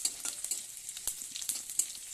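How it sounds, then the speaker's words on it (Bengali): Panch phoron seeds sizzle in hot oil as a tempering for a mixed vegetable dish, giving a bright, crackling hiss with scattered pops and small stirring clicks throughout. "এই যে ফোড়নে দিয়ে দিলাম পাঁচফোড়ন।"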